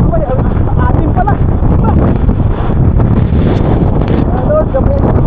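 Strong wind roars continuously at sea as heard from aboard a boat near an island, loud and steady throughout, with people talking over it.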